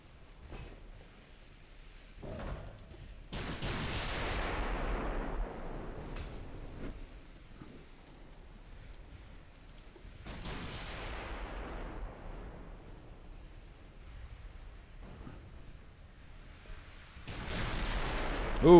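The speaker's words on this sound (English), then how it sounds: "there's some more 15-inch shells landing" In the naval battle game Ultimate Admiral: Dreadnoughts, 15-inch shells land in a few separate rumbling bursts spaced several seconds apart, each a soft, decaying roar over near silence, with another impact rising at the very end.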